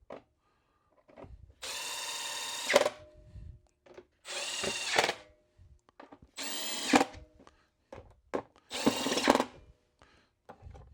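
Power drill driving 1/4-20 bolts into a Milwaukee table saw mount, four separate bursts of whirring that each run about a second, with quiet gaps and small handling clatter between them.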